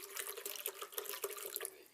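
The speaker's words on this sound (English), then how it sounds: "let's start off by adding around half a litre of water," Half a litre of water pours into a blender jar for a green smoothie, a splashing, bubbling stream heard close and alone for about two seconds.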